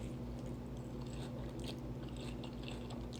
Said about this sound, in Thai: จะกัดได้ไหม